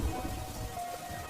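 Heavy rain pours down steadily as a dense, even hiss with a low rumbling undertone, continuous and fairly quiet throughout.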